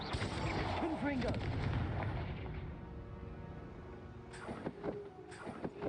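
Explosive Confringo spell blast in the video game Hogwarts Legacy, a loud booming burst that dies away, followed by a couple of sharper impacts near the end, with a voice calling out over the start.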